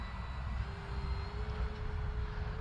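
An E-flite Carbon Z Cessna 150T RC plane cruises slowly with landing flaps lowered, its electric motor producing a steady, even drone with a faint constant whine, moderately distant and alone.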